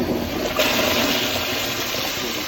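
A toilet is flushed after cleaning, a loud close whoosh of rushing, swirling water that holds steady for a couple of seconds, with no talking.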